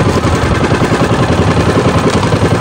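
A small boat's engine idles loud and close with a steady, rapid mechanical chugging that runs unbroken through the clip, with no voices.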